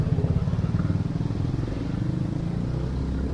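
Motorbikes on a busy shopping street in Bali: a nearby engine putters rapidly and steadily, holding a continuous rumble from start to finish.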